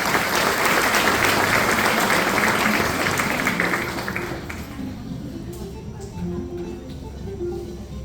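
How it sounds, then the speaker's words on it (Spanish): Loud applause fills a graduation ceremony at a national school, a dense crowd clapping steadily before thinning out and fading after about four seconds, with a voice speaking over the tail end. "Fuerte los aplausos."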